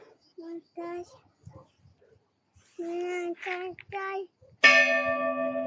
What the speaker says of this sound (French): C'est les cloches!